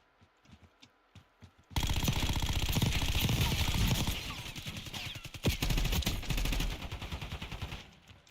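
Rapid automatic gunfire from a gun in a video game, a dense sustained burst of shots that runs several seconds after a few scattered quieter sounds, loud and close, then trails off into isolated pops.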